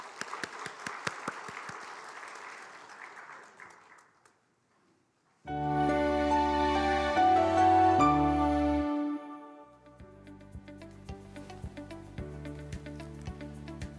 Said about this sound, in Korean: 다 함께 하나님께 영광의 박수를 올려드리겠습니다.